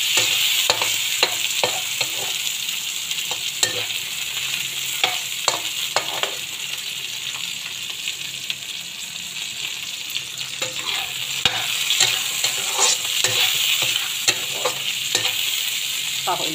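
Tomatoes fry in a pan for a fish and prawn curry, giving a steady soft sizzle with frequent scraping stirs and small clinks of a utensil, close and fairly quiet, with no talking.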